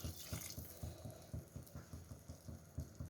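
Water is poured into a bowl of soaked toor dal, giving a faint, close, rhythmic splashing and trickling with soft repeated pulses and no talking.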